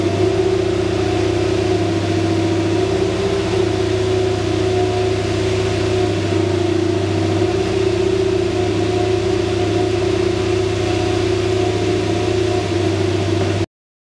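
Engine of a Ferrari SF21 Formula 1 car, with a loud, sustained mechanical drone that stays steady and dense throughout and has no clear rise and fall of revving.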